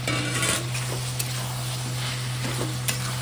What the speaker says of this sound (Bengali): সয়াবিন আর আলুটা দিয়ে দিলাম, দিয়ে এখন কষাবো।